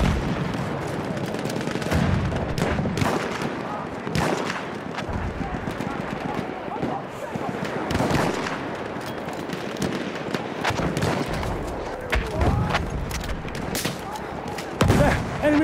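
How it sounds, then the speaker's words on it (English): Rapid bursts of machine-gun fire mixed with other gunshots and explosions in a Battlefield 1 battle, loud and continuous throughout, with voices shouting over the din. "Enemy machine gun!"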